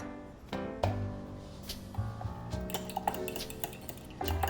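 A flour and sour cream mixture is whisked smooth in a bowl for crock pot potato soup, with light clinks and scrapes of the utensil against the bowl under steady background music.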